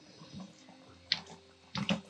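Warm water runs from a tap to soak cornhole bags, a soft trickle with gentle splashes and a couple of louder bursts near the end.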